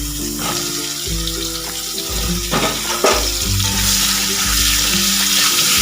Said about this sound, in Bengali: ওই তেলে আমি দিয়ে দেবো লম্বা লম্বা করে কেটে রাখা পটল